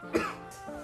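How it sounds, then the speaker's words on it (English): A single deep, rough cough, close and fairly quiet, followed by a brief wheezy breath. "those are some deep coughs right there"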